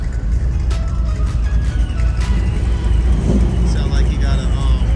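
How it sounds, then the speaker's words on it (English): Supercharged Fox body Ford Mustang engine at a San Mateo cruise night, a steady loud rumble throughout with a rising rev near the middle, set against crowd noise and nearby voices. "Sound like you got a supercharger underneath that that Mustang, that Fox body."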